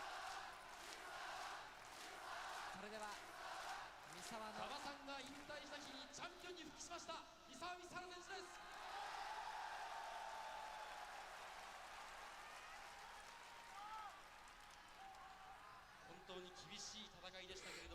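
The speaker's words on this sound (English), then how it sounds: "Everybody's just really fucking cheering for this dude." A 1999 professional wrestling crowd roaring and cheering for a wrestler, loud sustained crowd noise with shouts rising and falling, heard under someone talking over the recording.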